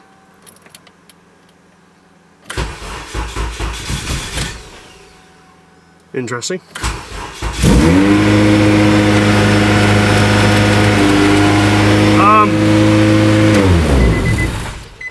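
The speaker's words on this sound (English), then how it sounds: "Let's hear this exhaust. See how it sounds." Keys jangle and a Honda Civic's K20 engine cranks, catches, then settles into a loud, steady idle with a low exhaust rumble and a brief rev; a voice speaks briefly.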